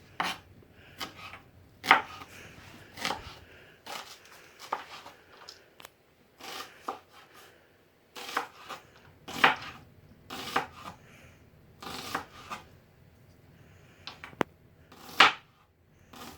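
Onions are chopped with a knife on a board for an onion, courgette and goat cheese quiche. Sharp, distinct knife strikes come in irregular bursts and single cuts, close and fairly quiet, with short gaps of near silence between them.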